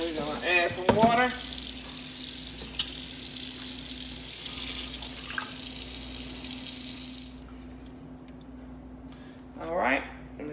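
Tap water running into a cooking pot holding pig feet in a home kitchen, a steady hissing rush that fills several seconds before cutting off, with a person talking briefly at the start and end.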